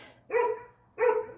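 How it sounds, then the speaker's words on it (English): A dog outdoors gives two sharp barks about two-thirds of a second apart, each clear and moderately loud, with quiet between them and no speech. "You can hear my dog barking outside."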